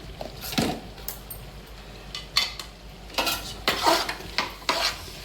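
Potato kurma curry being stirred in a pan with chili powder, a spoon scraping and clinking against the metal in a few uneven strokes, close and moderately loud with no talking.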